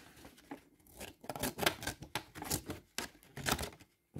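Victorinox scissors snip through paper in a quick series of crisp cuts, close up and fairly quiet, with short pauses between strokes.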